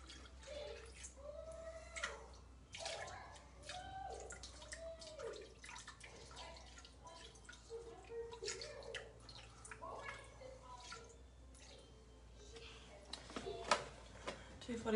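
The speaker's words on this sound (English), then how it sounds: "And you can just pour your milk straight in." Full cream milk poured into a Thermomix TM6 bowl: a faint, quiet trickling liquid pour with small drips and clinks, heard close with talk over it.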